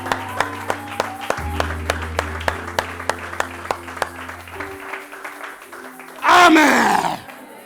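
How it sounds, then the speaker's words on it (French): A church congregation claps in a steady rhythm over sustained organ-like music, then breaks into a short, loud burst of applause and cheering near the end. "Il est content d'avoir reçu ces acclamations-là."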